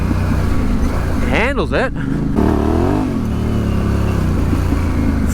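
A Yamaha Tenere 700 motorcycle engine pulls hard in third gear on an off- and on-road ride, its rising, sweeping whine climbing briefly beneath close, steady rumble and wind, with a rider talking over it.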